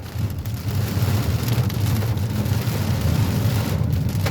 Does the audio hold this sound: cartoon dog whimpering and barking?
no